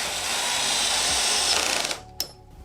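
A power screwdriver drives screws into the seat of a Sihoo Doro C300 Pro V2 ergonomic office chair, a loud, steady whirring for about two seconds that stops abruptly, followed by a single short click.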